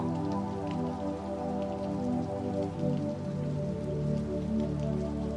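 Soft, constant rainfall drums on a surface nearby, a dense and even spatter of drops that holds steady throughout, with no talking.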